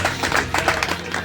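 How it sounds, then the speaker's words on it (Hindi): An audience at a Hindi poetry gathering applauds a guest poet with steady, brisk clapping from many hands, close and continuous. "इसलिए अनुरोध है आपसे कि इनके सम्मान में जोरदार तालियां बजाएं।"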